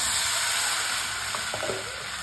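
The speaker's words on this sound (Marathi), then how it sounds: "तर आता पाणी टाकूया आपण" A loud, steady sizzle fills the air as water is poured into a hot pan of steamed vegetables for ragi soup, with a few light scraping stirs near the end.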